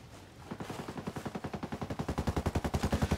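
Automatic gunfire in the video game Ghost Recon Breakpoint, a rapid regular burst of shots that starts softly and grows louder and sharper, each report evenly spaced in a fast stutter.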